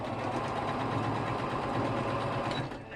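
A sewing machine runs steadily while stitching tiny fabric pieces, a continuous close mechanical whirr and rattle that holds even throughout and eases off slightly at the end.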